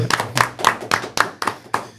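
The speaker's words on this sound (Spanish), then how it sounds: "¡Aplausos," Fan-group members at a podcast session for a Charlotte FC supporters' section clap in a steady rhythm, about eight sharp claps over two seconds, close and loud with no voices over them.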